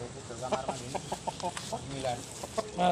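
A bald rooster clucks close by in a series of short, rhythmic calls, with faint speech mixed in.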